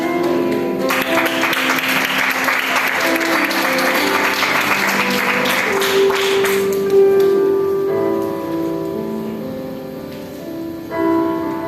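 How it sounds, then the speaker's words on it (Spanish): Congregation applauding during a church fasting service in Panama, a loud burst of dense clapping for several seconds that fades out, with sustained organ or keyboard tones continuing underneath. "Un aplauso a Jesucristo, hermanos."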